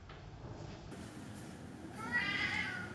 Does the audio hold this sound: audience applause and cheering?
no